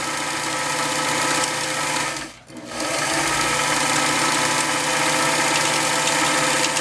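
An Elna Supermatic 62C sewing machine runs a tight decorative stitch, a close, loud, steady whirring hum with a brief dip as it slows and restarts, no voices.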